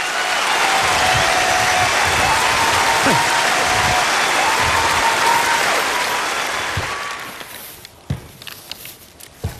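A studio audience gives loud, sustained applause for sketch performers coming on stage at a variety show. The clapping holds steady, then thins out and fades, leaving scattered claps and footsteps.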